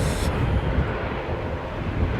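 An ATR turboprop airliner rumbles steadily and fairly loudly, a broad, continuous engine roar mixed with wind buffeting the microphone, with no voices.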